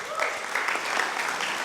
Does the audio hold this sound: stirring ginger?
no